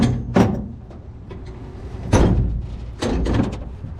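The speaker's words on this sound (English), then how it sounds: "Besides this door flinging open." The door of a twin-turbo rat rod truck swings open and bangs shut several times: loud, close thuds and slams over a background rumble, with no talking.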